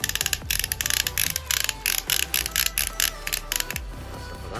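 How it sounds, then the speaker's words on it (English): A Transformers Combiner Wars Silverbolt figure's ratchet joint clicks in quick, sharp runs of plastic ticks with brief pauses between them, close and crisp. "a nice ratchet that's over 90 degrees. Wait, the ratchets do feel nice on them."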